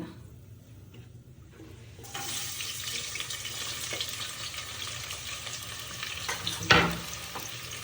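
Onions tipped into a pan with cinnamon, cloves and cardamom: quiet at first, then a sudden steady sizzle swells and holds, with a brief clink of a utensil near the end and no speech.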